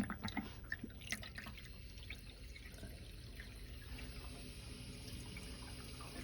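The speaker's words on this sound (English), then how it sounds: "the water is coming through here" Water rushing through the three-way valve of a Triangle Tube combi boiler during purging, a steady faint hiss and gurgle with a few drips and clicks at the start.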